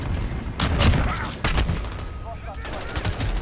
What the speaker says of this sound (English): So it's really like seven double shots.